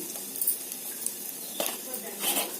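Flattened rice (atukulu) frying in plenty of ghee for payasam, a soft steady sizzle with a few sharp scrapes and clinks of stirring in the pan.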